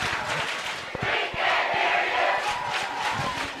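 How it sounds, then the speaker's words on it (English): A high school football crowd at Bountiful cheering on the Redhawks, a continuous roar of shouting and whooping from the stands, fairly distant and sustained, with rhythmic thumps scattered underneath. "You hear that crowd sensing the moment, trying to cheer on the Redhawks."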